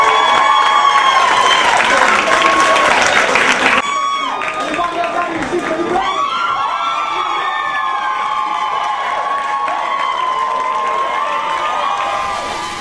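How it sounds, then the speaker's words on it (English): A cinema crowd at a fan screening erupts in loud cheering, whoops and applause, high excited shouts dominating before settling into a lower sustained roar of clapping and chatter. "So give yourselves a round of applause."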